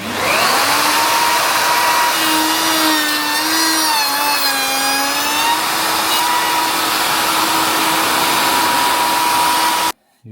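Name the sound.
router cutting wood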